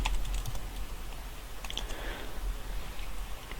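A computer keyboard is typed on in a short burst of soft, fairly quick key clicks, close and moderately quiet over a low background hum.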